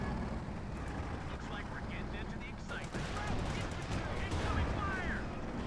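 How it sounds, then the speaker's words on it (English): Gunfire in the video game Company of Heroes 2 crackles at low level, with scattered shots and short bursts mixed into battle ambience, heard under a voice talking throughout. "Shot fired there."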